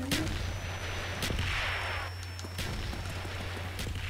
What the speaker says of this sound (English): Enemy mortar team spotted. Take cover.